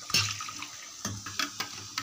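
Water poured into a fish marinade in a home kitchen makes short splashy gurgles in four or five separate bursts, close by and fairly quiet.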